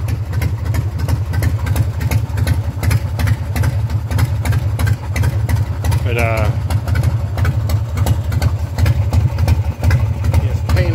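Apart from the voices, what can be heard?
engine idling high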